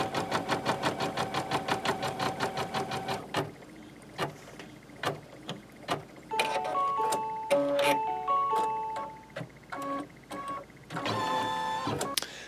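A computerized embroidery machine stitches out a freestanding 3D flower, its needle running in a fast steady rhythm that stops, then gives way to sparse clicks and short tonal beeps before a final burst of stitching, close and alone.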